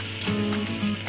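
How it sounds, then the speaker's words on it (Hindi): Ginger garlic paste frying in a pan, a brief, loud, continuous close sizzle with a faint tonal hum underneath and no voices. "सबसे पहले हम जिंजर गार्लिक पेस्ट डाल देंगे"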